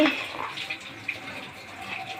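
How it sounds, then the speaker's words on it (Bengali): A steady rush of water pouring into a cooking pot of rice, continuous and fairly close, with a faint background murmur. "পানি এখানে পরিমাণ মতো দিতে হবে"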